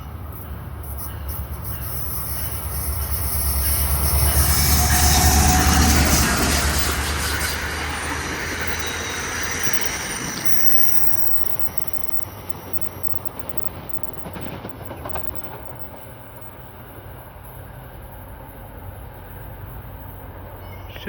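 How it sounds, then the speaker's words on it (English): An NJ Transit commuter train runs express from Hoboken to Suffern through Clifton station without stopping, building to a loud, close rumble of wheels and rail noise that swells and then fades as it passes. "this is train 1117, Hoboken to Suffern Hotshot"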